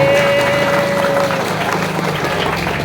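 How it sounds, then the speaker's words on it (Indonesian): An audience of schoolchildren at a storytelling session claps loudly in a quick, busy burst, with a steady tone at the start and voices mixed into the clapping. "Tepuk tangan semuanya"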